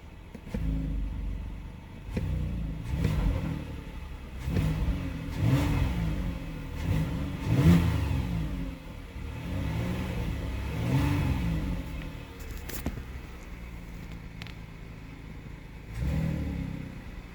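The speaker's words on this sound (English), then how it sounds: "Give it a few revs." A 2022 Kia Telluride SX's 3.8-liter V6 engine revs up repeatedly, rising and falling in steady bursts, close and fairly loud, with no talking.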